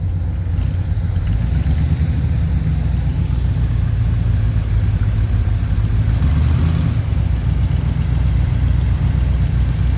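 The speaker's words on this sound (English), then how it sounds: "327 V8. That is a 2-barrel." A 327 V8 hot rod engine with a two-barrel carburetor idles steadily close by, a constant low rumble with a slight swell around six seconds.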